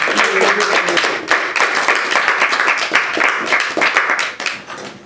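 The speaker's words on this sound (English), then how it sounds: "Let's give one more round of applause for the poets tonight" A room full of people at a poetry reading claps in sustained applause, dense and lively, fading slightly toward the end.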